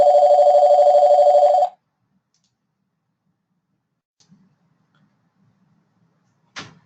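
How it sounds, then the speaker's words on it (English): A phone rings loudly and steadily for under two seconds and then cuts off, leaving near silence broken only by a couple of faint knocks and a short final click. "My phone stopped ringing"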